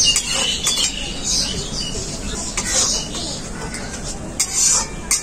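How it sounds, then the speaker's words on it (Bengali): Masala with cashew paste stirred and fried in a pan for a paneer curry, giving a steady close sizzle with scattered spoon scrapes and small clinks throughout. "কাজু বাদাম বাটা দেওয়ার পর মশলাটাকে খুব ভালো করে কষিয়ে নেব।"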